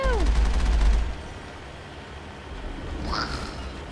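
Gunfire during a Mass Effect battle: a loud rapid volley up front that drops away to low rumbling background noise, with a brief tonal chirp near the end.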